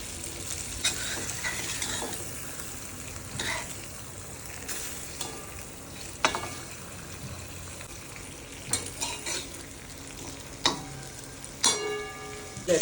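Pomfret coated in rice flour and semolina shallow-frying in oil: a steady soft sizzle with intermittent clinks of a utensil against the pan and occasional louder clatters, no voices.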